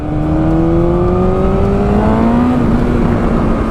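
A tuned 2020 BMW S1000RR motorcycle engine pulls at part throttle, its loud, steady, rising engine tone close and continuous with no talk.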